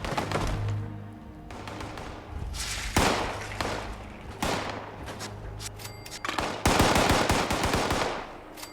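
Gunfire in Fallout 76, repeated loud bursts of automatic shots and single cracks spread across several seconds, some close and sharp, with a dense rapid volley near the end.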